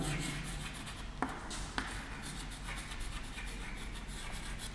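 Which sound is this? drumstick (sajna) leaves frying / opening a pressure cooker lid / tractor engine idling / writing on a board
writing on a board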